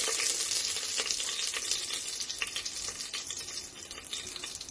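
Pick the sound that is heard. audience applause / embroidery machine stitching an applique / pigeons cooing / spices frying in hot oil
spices frying in hot oil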